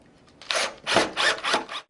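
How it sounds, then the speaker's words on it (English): Deep-thread screws driven through a mounting plate into the wood of a pullout pantry, heard as four close, rasping turns in quick succession with short pauses between them. "line your mounting plate up with the pre-drilled holes and simply begin by screwing those into place"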